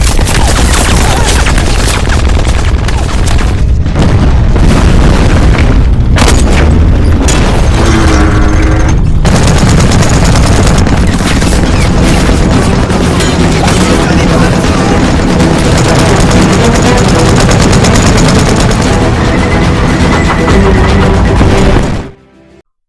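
A dense, continuous WWII battle of Soviet soldiers against German tanks, with rapid gunfire, heavy booms and explosions layered over one another at high volume for over twenty seconds before cutting off abruptly.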